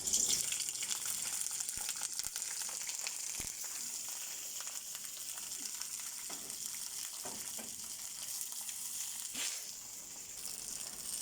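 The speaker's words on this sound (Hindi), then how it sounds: "तेल हमारा गर्म हो गया, हम इसमें मिर्चें डाल देंगे।" Green chilies drop into hot oil in a heated wok, giving a steady bright sizzle and crackle throughout with a few sharper spatters, no talking over it.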